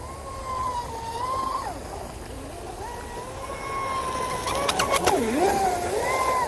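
A Pro Boat Sonicwake V2 RC boat's motor, on a LiPo battery at full throttle, whines steadily at high pitch, rising and dipping as it runs hard, with faint voices and outdoor noise in the background.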